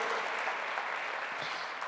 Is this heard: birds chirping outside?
no